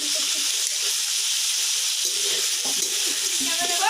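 Ginger and garlic frying with meat in a hot pan, a steady bright sizzling hiss that runs without pause, close and fairly loud.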